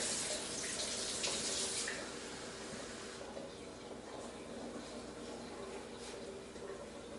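Cold water runs steadily from a kitchen tap for making steamed bun dough, a continuous soft hiss and splash that is a little stronger at first and then settles into a quieter even flow.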